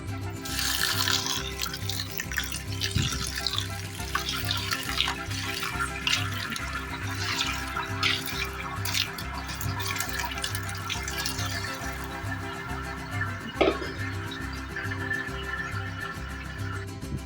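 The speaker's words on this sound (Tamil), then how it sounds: "இதுல வந்து ஐஸ் வாட்டரை நல்லா ஊத்தி வடிகட்ட போறோம்." Ice water pours steadily over drained noodles for Hakka chicken noodles, a continuous close splashing rush of water that runs without a break and never pauses.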